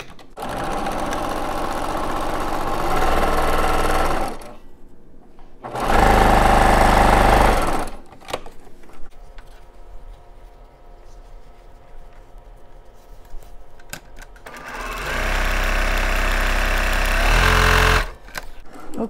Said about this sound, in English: stitch a 1/4 inch seam all the way down